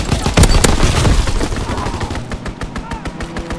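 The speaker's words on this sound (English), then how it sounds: "Enemy strafing run inbound." Rapid gunfire from an enemy strafing run in Call of Duty WWII multiplayer Domination, loud and dense at first with bursts of shots and booms, then thinning into sharper separate cracks toward the end.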